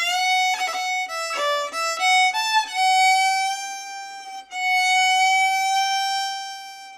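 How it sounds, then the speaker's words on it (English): An Irish fiddle plays near and alone, bowing a series of notes with a slide into the G on the top string, the second finger squeezed tight against the first; bright sustained tones with a brief dip before the final held notes. "It's a slide into the G on the top string"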